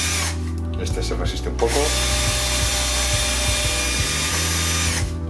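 A drill bit boring out the rivets on a Bosch Siemens washing machine door, a steady loud whine with a brief spoken remark over it.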